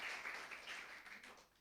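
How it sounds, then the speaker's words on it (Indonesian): Congregation clapping during a Sunday worship service at an Indonesian GBI church, a dense steady patter of many hands that thins slightly toward the end, moderately loud and without talk over it. "Kasih tepuk tangan buat Tuhan Yesus"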